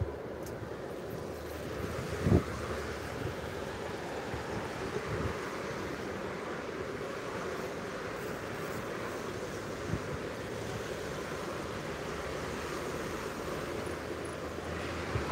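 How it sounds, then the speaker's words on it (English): Steady wind noise on Arnhem's John Frost Bridge in the Netherlands, a constant broadband rush with traffic from cars crossing the bridge blended in, one brief louder thump near the start, no talking. "it's sort of windy and there's a lot of cars on the bridge right now"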